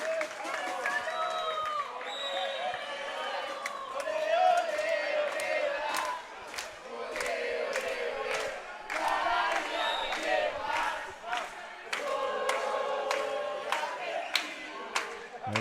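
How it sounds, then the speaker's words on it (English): Argentinian fans in the crowd at a women's foam dodgeball match between Argentina and Mexico at the 2024 World Championships cheer and shout, with sharp claps and bursts of noise rising and falling across a busy arena, and voices mixed in. "we've got the crowd into it all around. Argentinian fans enjoying themselves"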